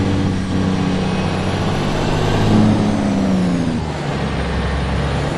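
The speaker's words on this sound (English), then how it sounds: "engine brakes got a little too much power" A Peterbilt 359 truck in American Truck Simulator rumbles on its engine brake, a loud low-pitched throaty drone that swells in the middle and then settles, with no talk.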